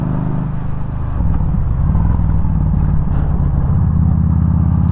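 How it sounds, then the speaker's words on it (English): Yamaha V Star 1300 cruiser engine revving inside a tunnel, a dense, echoing low roar that swells after the first second and holds loud and steady. "When you see a tunnel, you have to rev."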